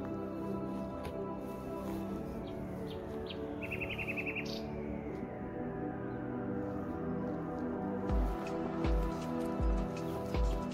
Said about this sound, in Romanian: ne bucurăm de sunetul păsărelelor